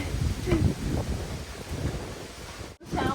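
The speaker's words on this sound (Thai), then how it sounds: "ตอนนี้ลมแรงค่ะ" Strong wind blowing outdoors in a backyard in Australia, a steady loud rushing buffet against the microphone with gusty swells, and someone speaking over it, with a brief drop-out near the end.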